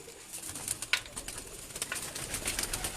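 Pigeons cooing and taking flight from a rooftop, with a soft flutter of wings, steady low background noise throughout, no voices.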